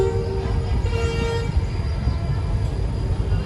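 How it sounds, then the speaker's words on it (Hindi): A locomotive horn whose tone mixes GMU and ZCU whistles sounds as a brief, fairly faint held tone at Malir Colony station, fading after about a second and a half into steady background rumble. "तो इसके हॉर्न को भी आप GMU और ZCU के विसल का मैशअप कह सकते हैं।"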